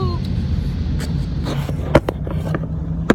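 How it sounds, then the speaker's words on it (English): A steady engine rumble from a vehicle nearby, with a few sharp clicks and knocks over the continuous road noise. "That's the motorcycle dude behind me."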